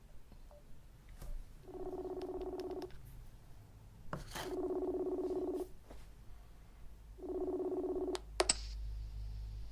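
Three sustained tonal bursts of a phone call being dialed, each about a second long and separated by pauses, with faint clicks and taps between them.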